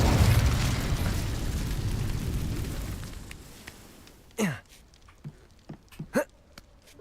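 Incendio fire spell cast in Hogwarts Legacy, a loud whooshing roar of flame that fades out, followed by a few sharp pops and bursts.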